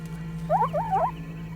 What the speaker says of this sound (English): not close enough to hear that alarm call